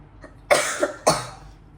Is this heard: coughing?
yes